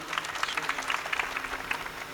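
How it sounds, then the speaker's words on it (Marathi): An audience claps at a kirtan in Degloor, Nanded, with quick, scattered handclaps forming a steady patter across the whole stretch at moderate level. "आपण खूप सहज टाळी वाजवतोय"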